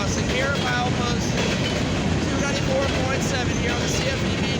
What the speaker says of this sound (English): This is a CFE mixed fry grain train. This is westbound.